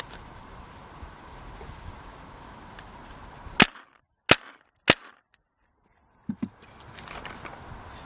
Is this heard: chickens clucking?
no